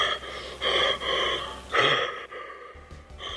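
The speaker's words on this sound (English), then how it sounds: "besides the deep breathing heard from under the mask" Slow, deep, raspy breathing under a Michael Myers mask on a Halloween phone line, with heavy drawn-out inhales and exhales close to the mouthpiece and one sharper gasp midway.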